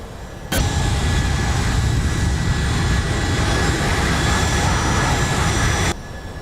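Jet engines of a heavily loaded Condor Boeing 757-200 roar at takeoff power, a loud, steady wall of engine noise rising abruptly just after the start and dropping off near the end, heard from inside the aircraft.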